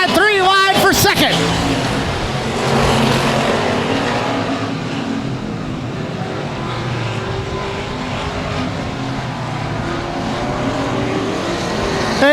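Race cars at Cotton Bowl Speedway: a loud engine roar sweeps close by at the start, then a sustained buzz of several cars circling the track continues while an announcer calls the race over it.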